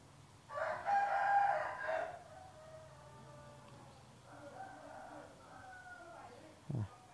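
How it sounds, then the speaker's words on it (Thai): A rooster crows loudly at around ten in the morning, followed by softer clucks and bird calls, then a brief thump near the end. "ผมอัดคลิปทีไรนี้ไก่ขันดีชิบหายเลย"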